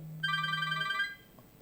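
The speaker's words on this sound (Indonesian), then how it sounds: "Oh, telepon, halo." A telephone rings with a steady electronic ringtone, a single warbling trill lasting about a second at moderate volume before cutting off to quiet room tone.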